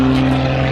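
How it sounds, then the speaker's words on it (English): Pitts S-2S aerobatic biplane with a Lycoming engine at an air show, a loud steady engine and propeller drone with a strong constant tone, close and continuous, no voices. "Lycoming engine."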